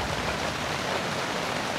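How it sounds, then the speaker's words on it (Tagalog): Heavy rain pours at a mountain campsite, a dense, even hiss of falling water, loud and unbroken with no voices. "mas lumakas pa ang ulan"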